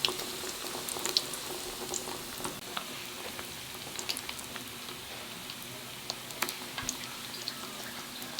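Pork bubbling in hot oil for Cebu-style lechon kawali, a faint continuous crackle and fizz with scattered small pops, quiet and fairly distant, with a little background voice now and then.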